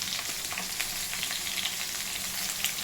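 Ginger and garlic fry in a pan with a steady, close sizzle and light crackle that runs continuously, with no voices over it.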